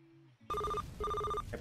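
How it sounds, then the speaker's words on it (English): A telephone rings in the video game Run Pizza Run, two loud, distinct ring bursts separated by a short gap, alone without talk. "I'm letting it ring."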